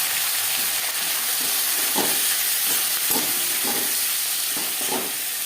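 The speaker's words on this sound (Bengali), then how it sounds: "দশ পনেরো সেকেন্ড পাঁচ ফোড়ন ভেজে নেওয়ার পর দিয়ে দেবো পেঁয়াজ কুচি আর দিয়ে দেবো টমেটো" Chopped onion and tomato fry with panch phoron in oil for a tilapia fish curry with potato, a continuous loud sizzle broken by regular spatula scrapes about every half second.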